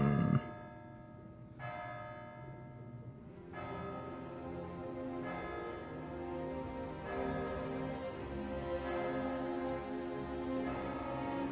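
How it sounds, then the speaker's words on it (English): A church bell tolls in the medieval game Kingdom Come: Deliverance II, five or six slow, evenly spaced strikes with long ringing decay, moderately distant and alone. "That's the 10th bell."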